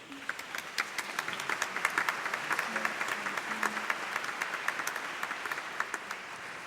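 A church congregation applauds during a prayer service for the sick with steady, moderately quiet rapid clapping that runs throughout, and faint voices underneath.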